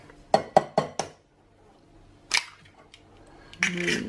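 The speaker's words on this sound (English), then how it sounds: "And now we're going to add our eggs in." Eggs cracked and dropped into a bowl of cocoa mixture while making chocolate custard: four sharp taps close together, a pause, then a wet splat and a second clatter of shell against the bowl, close and clear.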